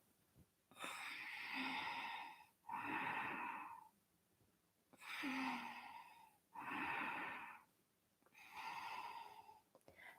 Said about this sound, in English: and breathe out